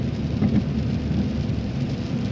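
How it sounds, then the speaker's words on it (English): Steady rain hissing on a car while driving along a road after a winter storm, a continuous dense wash with low road rumble underneath and no voices. "Or down here it's just all rain."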